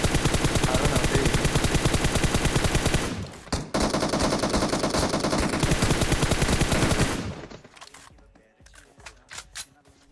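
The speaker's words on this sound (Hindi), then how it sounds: "हमारे भाई M16 को ऑटो पे चला देते हैं।" Sustained automatic M16 rifle fire in PUBG Mobile, a loud rapid burst of shots running for about seven seconds with a brief break, then stopping into quieter scattered game sounds.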